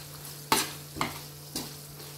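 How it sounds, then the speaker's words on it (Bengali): Egg curry masala is stirred and sautéed in oil with no water, giving three evenly spaced, close scraping stirs over a soft, continuous sizzle, with no speech. "এটাকে আমি 2-3 মিনিট মতো কষে নেব। যেহেতু জল দেবো না, তো এই তেলের মধ্যেই"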